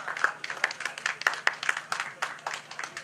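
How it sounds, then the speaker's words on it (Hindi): Audience at the Raipur Sahitya Mahotsav photography workshop applauds to honor Navbharat journalist Gokul Soni: uneven, steady clapping from many hands in an indoor hall, sharp individual claps popping above the wash. "उनके सम्मान में जोरदार तालियां बजाइए प्लीज"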